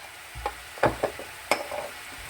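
Mushrooms and peppers stir-frying in garlic butter, a few scraping tosses and clatters in the pan over a soft sizzle, close and brief, with no speech.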